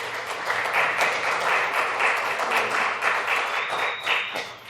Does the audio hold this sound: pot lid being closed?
no